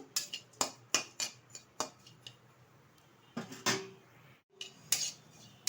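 A utensil clinks and scrapes against a kadai as a small amount of lachha is lightly stirred while frying, giving a series of sharp, close metallic knocks separated by short quiet gaps.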